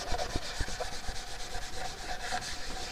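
Wood oil worked into a wooden surface with a Scotch-Brite type nylon pad, a close, steady rough rubbing and scrubbing in quick repeated strokes, with no talking.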